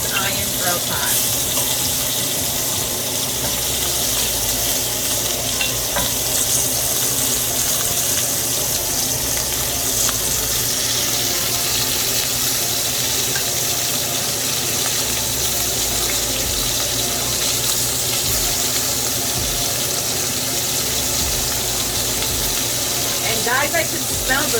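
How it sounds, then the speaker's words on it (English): Pieces of jerk shrimp fry in a cast iron grill pot, producing a steady, close, unbroken sizzling hiss that holds for the whole stretch. "I'm gonna be gradually adding pieces of my shrimp to my cast iron grill pot"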